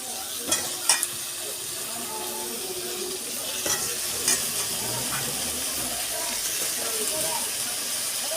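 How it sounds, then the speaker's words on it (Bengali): Cut potatoes and eggplant frying in a wok, a steady broad sizzle and hiss running throughout with a few clattering stirs and scrapes near the start, close and moderately loud. "পরে আমি কেটে রাখা আলু আর বেগুন দিয়ে দিচ্ছি কড়াইতে।"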